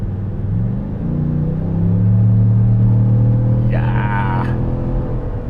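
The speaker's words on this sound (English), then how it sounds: "There's the V8 sound, comes to life." A Chevrolet Tahoe RST's V8 engine rumbles steadily from inside the cabin, swelling slightly in the middle as it pulls, with a brief whirring tone near the end.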